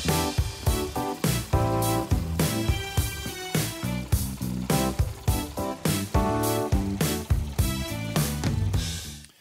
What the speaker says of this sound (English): I will only make a simple drum loop